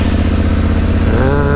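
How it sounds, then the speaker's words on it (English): Fully loaded adventure motorcycle starting up, its engine settling into a steady, loud close-up idle thrum with clattering mechanical texture and a rising note toward the end. "Just gonna turn on the ignition and go fill up the tank."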